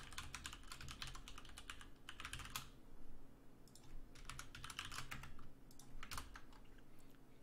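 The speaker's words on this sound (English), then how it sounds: "Then retype in our command." Bursts of quick keystrokes on a computer keyboard while a command is typed, close and quiet, with short pauses between runs of typing.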